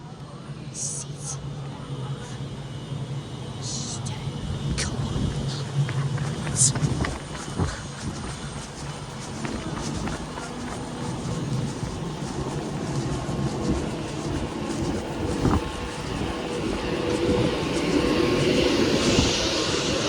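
The train City of Stoke-on-Trent rumbles and clatters steadily past at close range as it arrives at Wilmslow station, wheels clicking over rail joints, with a faint voice now and then under the noise.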